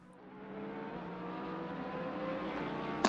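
GT3 race cars at Monza in a racing video game, a Lexus among them, engine drone building steadily and rising in pitch as a car runs on, with no talk.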